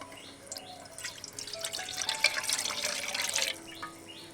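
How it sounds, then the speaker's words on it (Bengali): Lukewarm milk poured into a large bowl while making bread dough, a soft liquid trickle and splash that builds in the middle and then tapers off, heard close up with no talking. "এই দুধটা আমি বড় বাটির মধ্যে দিয়ে দেবো।"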